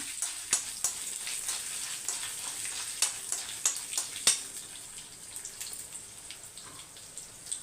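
Eight dried red chillies frying in hot oil in a pan, a steady soft sizzle with scattered sharp crackles and pops, fairly close and moderately quiet, with no talking.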